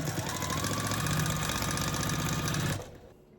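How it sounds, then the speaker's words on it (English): Sewing machine running a quarter-inch seam along a small quilt block, a steady close mechanical whir with rapid needle ticking that stops abruptly near the end. "I'm going to sew 1/4 inch all the way down"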